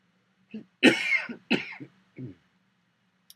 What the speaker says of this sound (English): has a little bit of a cough there